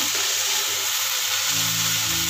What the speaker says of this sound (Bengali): সাদা তেলে তেল আর ঘি মিশিয়ে একটু নেড়ে চেড়ে ভেজে খাওয়া হচ্ছে